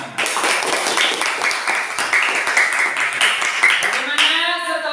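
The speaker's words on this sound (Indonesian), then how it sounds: "Oke, tepuk tangan untuk kita semua." A class claps hands together during a peer-teaching lesson, uneven rapid claps overlapping with voices and chatter, closing with a short spoken or sung phrase at the end.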